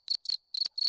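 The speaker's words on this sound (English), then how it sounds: "If not, there's a cricket." A cricket chirping sound effect plays from a Discord soundboard: four quick, shrill, pulsing chirps, clean and close, with nothing else around them.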